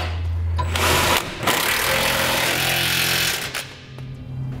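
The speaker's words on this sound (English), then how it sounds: "I'm going to come back with a 3/4 inch socket and tighten up all my half inch hardware." Impact wrench with a 3/4 inch socket tightening half inch hitch bolts while installing a Draw-Tite trailer hitch on a 2018 Ram 1500, a loud rattling hammering burst running almost continuously with a brief pause.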